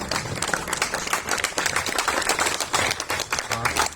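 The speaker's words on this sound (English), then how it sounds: "Please give a huge round of applause" Clapping from a school morning assembly, rippling fairly steadily and moderately loud for a few seconds, with some voices mixed in under it.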